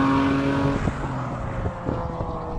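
A performance estate car launches hard, its engine a loud, sustained drone heard up close from inside the cabin with faint thumps, and no talking.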